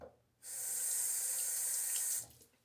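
Water gushes steadily from a tap for about two seconds, a bright hissing stream that starts and stops abruptly, with no voices.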